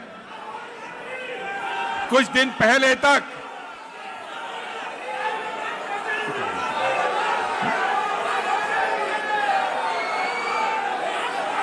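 A large crowd of Congress supporters murmurs and chatters at an OBC rally in Delhi, a steady hum of many voices beneath someone speaking through a loudspeaker, with a short burst of louder sound early on.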